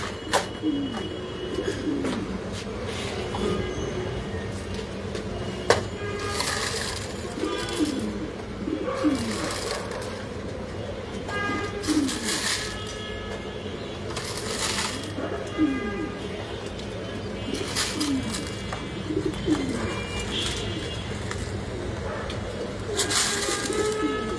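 Pigeons coo over and over inside a pigeon loft, steady rhythmic calls close by with occasional clatter and someone talking now and then.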